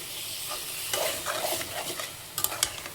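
Raw washed chicken tipped into hot oil for a Telugu-style chicken pulusu, sizzling and crackling as it is stirred, with bursts of scraping and frying that swell midway and flare again near the end, no voices.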